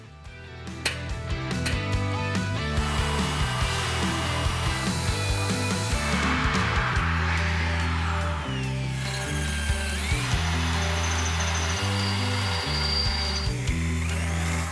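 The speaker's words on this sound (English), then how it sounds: "All right, our holes are drilled" A power drill bores holes through the steel frame of a 1967-72 Chevrolet C10 truck, motor whirring steadily in sustained runs with brief stops and clanks in between, fairly close in a quiet workshop.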